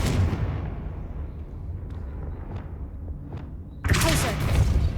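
A Confringo blasting spell goes off in the Hogwarts Legacy video game, a sudden loud burst of bright, crackling noise that cuts in near the end over a low rumbling game backdrop.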